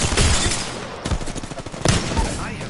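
Rapid gunfire in the video game Apex Legends, loud bursts of shots close by, with no talk over it.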